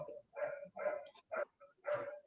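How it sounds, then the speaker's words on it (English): Dogs barking indoors-distance, several short barks in an irregular run of bursts, moderately faint with a hint of whimpering between them. "those are the dogs"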